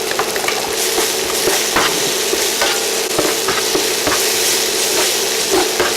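Ginger, lemongrass and garlic hitting hot oil in a pan while cooking fish: a loud, constant close sizzle with light stirring scrapes mixed in.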